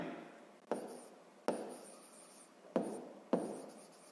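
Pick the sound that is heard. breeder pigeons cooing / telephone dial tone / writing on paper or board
writing on paper or board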